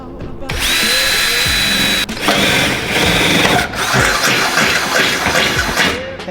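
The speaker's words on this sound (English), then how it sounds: "So I'm gonna go ahead and drill right there." A power drill whines loudly and steadily, drilling holes in a car, with a brief pause midway before it revs back up and keeps boring, close by.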